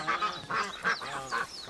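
Ducks on a rural river give four loud, nasal, honking quacks in an uneven rhythm, close by, with no talking over them.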